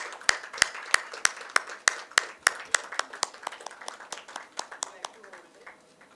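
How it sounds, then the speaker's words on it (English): Scattered hand claps ring out at an awards ceremony stage unveiling, a sparse run of sharp, distinct claps that thins and fades toward the end. "with a huge round of applause"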